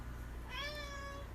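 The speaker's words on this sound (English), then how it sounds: "That was our cat giving his review of the movie." A pet cat gives a single drawn-out meow, fairly faint and rising then falling, over a quiet room hum with no talking.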